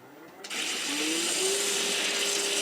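Wooden cross ends sanded together on a mandrel spinning on a woodturning lathe: a steady, loud broadband hiss and whir that starts abruptly and holds, with a faint rising motor tone underneath.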